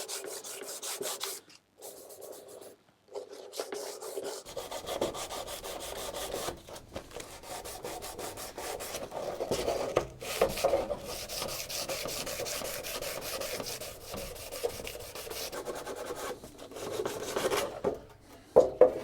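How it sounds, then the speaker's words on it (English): Hand sanding with 120-grit sandpaper scuffs through lacquer on a cafe racer motorcycle part before a rattle-can paint job, giving steady, close rasping strokes that run on with only brief pauses. "Now I'm going to hit the whole thing first with some 120 sandpaper. Scuff right through the lacquer."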